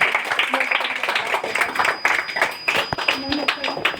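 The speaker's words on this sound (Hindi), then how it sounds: "फिर तालियों में कमी दिख रही है मुझे" Scattered, uneven clapping from a modest audience at an Independence Day celebration, individual hand claps audible as a loose patter, moderately close and without talk.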